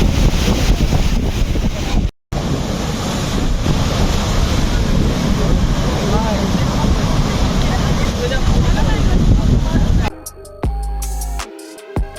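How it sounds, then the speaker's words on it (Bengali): Strong sea waves surge onto the beach at Digha with a loud, continuous roar and heavy wind buffeting the microphone, broken by a short dropout and turning choppier near the end. "এখানে অব্দি পুরো জল এসে ভিজিয়ে দিয়ে যাচ্ছে"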